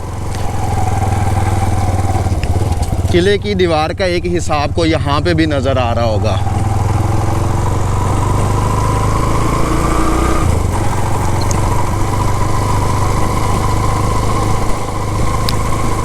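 A motorcycle ridden inside the historic Mangla Fort in Azad Kashmir, its small engine humming steadily and close throughout, while someone talks over it for the first several seconds.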